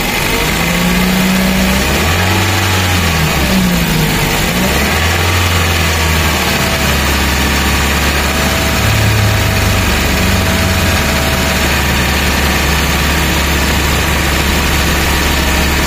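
A Toyota engine runs during a radiator and engine block flush and is revved gently in gradual steps. The close, steady drone has slowly rising and falling pitch swells.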